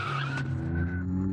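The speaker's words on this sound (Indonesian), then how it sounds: "sepertinya mobil itu memang benar-benar menabrak anak itu." A car skids hard with a loud, sustained tire squeal that holds a tonal screech for over a second, up close, in a dramatic scene where it strikes a child.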